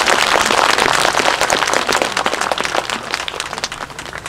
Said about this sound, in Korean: 고맙다는 큰 박수 한번 보내주시죠